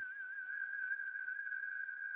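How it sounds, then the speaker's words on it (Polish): A single person whistles one steady, sustained high note for about two seconds, clear and fairly close, with no talking over it. "Gwizd, gwizd, świst, gwizd, gwizd, gwizd, świst, gwizd."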